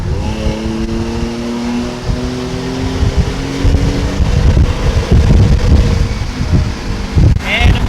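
A 2018 Ford F-150 XL with the 3.3L engine revs in sport mode, its engine note rising and holding high revs up close, mixed with rumbling wind buffeting.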